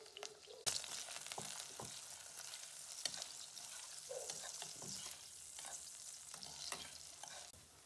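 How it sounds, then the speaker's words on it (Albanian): Whole lamb offal frying in a pot, a steady sizzle with repeated sharp scraping stirs throughout, close and alone with no talk. "Në një tenxhere shtojmë komplet mërçitë e tëra. Ti ka vërditur dhe ti skuqi mirë."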